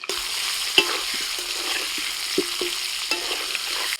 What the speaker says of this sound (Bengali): আলুগুলোকে লাল লাল করে ভেজে তুলে নিচ্ছি